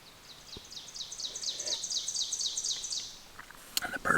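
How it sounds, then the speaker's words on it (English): A songbird trills in the Ozark woods, repeating a rapid high chirping phrase for about three seconds, clear and moderately close against quiet forest ambience, followed by a few faint scattered calls and a brief rustle. "And the birds are singing."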